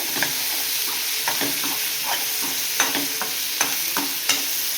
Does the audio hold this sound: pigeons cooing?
no